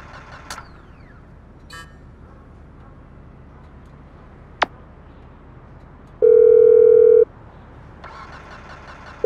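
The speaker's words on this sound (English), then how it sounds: "Who changed my ringtone?" An electronic phone ringtone in Grand Theft Auto V chimes loudly for about a second, then starts again, set against a low engine rumble and occasional sharp game sound effects.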